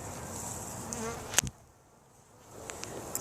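Honey bees in a new hive, their buzzing close and fairly quiet, steady at first, dipping briefly after a sharp click, then returning with small taps.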